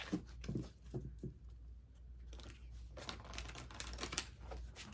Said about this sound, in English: shuffle these a couple times